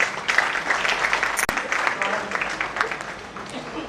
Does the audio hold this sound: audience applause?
yes